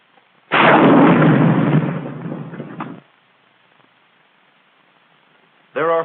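An M6 anti-tank rocket launcher fires with a single loud, sudden blast and rushing backblast lasting a couple of seconds before dying away, followed by a brief burst of a second sound near the end.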